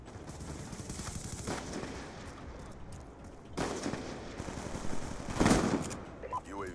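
Gunfire in the video game Black Ops 2, bursts of rapid shots and heavier blasts rattling over a busy battle background, with a few louder hits standing out and a voice audible in the mix.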